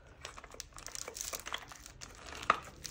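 Close, quiet crinkling and tearing of a package's wrapping as it is cut open, a run of small irregular crackles with a sharper snap near the end.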